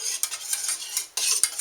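A whisk or spoon stirs gluten-free white sauce in a pot, a steady close scraping swish with brief surges of louder strokes and a short pause near the end, no voices.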